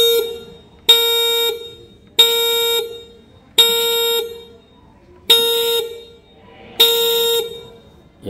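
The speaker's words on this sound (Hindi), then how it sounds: "यहाँ पर हॉर्न का साउंड देखा होगा" An Ola electric scooter horn sounds five times in a regular rhythm, each loud, bright electronic beep held for about half a second with short silent gaps between.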